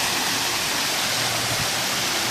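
An indoor water fountain at Beijing Airport pours in a dense, steady rushing splash, constant and close with no pauses over a brief stretch.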